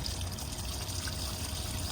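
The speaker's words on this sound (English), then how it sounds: "you pull this handle here, drive over the grid on the site, and deposit your dirty water" Grey water from a Chausson Flash C646 motorhome's waste tank drains onto a site grid in a steady, continuous rushing trickle, close and unbroken, with no talk.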